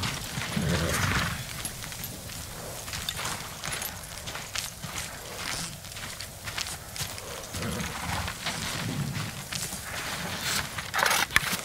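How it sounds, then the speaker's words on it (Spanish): Samurai horse hooves walking in the video game Ghost of Tsushima, a steady run of close clip-clop steps carried along under background ambience. "Son caballos de samuráis, los pocos que no llevamos a la batalla."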